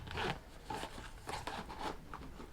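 A zipper on a Hermes Mini Herbag Zip 20 handbag being tugged, a few short, quiet scraping zip strokes close by, stopping and restarting as if the zip catches and will not close.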